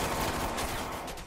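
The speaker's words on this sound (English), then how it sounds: "I feel like there's bullets coming from the right and the left." A short, loud burst of rapid gunfire from the video game Watch Dogs 2, with rattling shots packed closely together and no talk.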